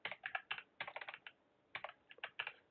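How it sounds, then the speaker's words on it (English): Computer keyboard typing in the background during a podcast recording: quick bursts of key clicks in irregular clusters, with a short pause midway, moderately faint and without talk. "sorry if you hear keyboards in the background"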